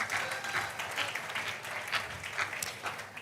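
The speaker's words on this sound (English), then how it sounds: "Please, a round of applause for them." Audience applause for a university debate team at a grand finale event in Nigeria, a dense steady clapping from a crowd lasting throughout, fairly loud with no voices over it.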